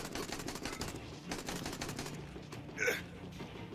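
Gunfire aimed at the player in the video game Dead Rising 4, a rapid run of sharp shots over a busy game backdrop, with one louder burst near the end.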